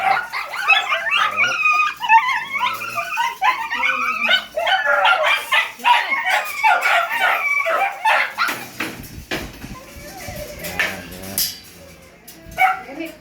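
Dogs bark and yip in quick, overlapping bursts through the first half, fading to scattered sounds and light rustling toward the end.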